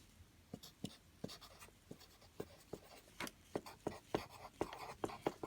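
Formulas are written by hand: quick pen or pencil strokes scratch and tap on paper in an irregular rhythm. The sounds are close but quiet, with a faint breathy hint of voice now and then.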